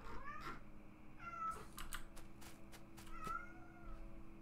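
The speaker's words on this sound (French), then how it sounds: "Il y a un chat qui crie famine." A cat meows several times, crying for food: faint, somewhat distant meows spaced across the stretch over a quiet background, heard during a multiplayer Factorio session.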